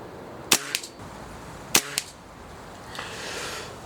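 Two sharp shots from an HW97 air rifle, about a second apart, each a loud close crack followed by a quick pellet impact tick on a target.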